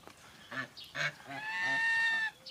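Geese honk loudly and close by, a few short calls followed by a long drawn-out nasal honk, with no other sounds around them.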